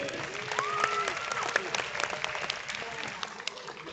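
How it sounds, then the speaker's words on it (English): A crowd at a competition finals event in Melbourne applauds the competitors with steady, dense clapping and some cheering over a continuous crowd murmur, fairly close and sustained throughout. "Big round of applause for these competitors."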